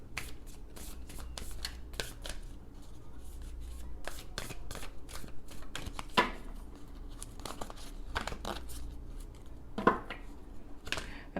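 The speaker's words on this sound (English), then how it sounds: "Let me shuffle them a bit more." A deck of tarot cards is shuffled by hand in a rapid series of crisp riffling and slapping bursts, close and fairly quiet, with no talking.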